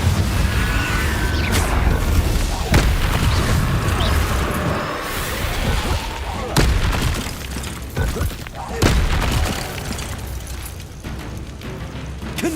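Confringo blasting curse explosions in the game Hogwarts Legacy: repeated loud booms and crashes burst out in quick succession through a dense battle, with sharp impacts near 3, 6.5 and 9 seconds and a voice shouting spells over the fighting.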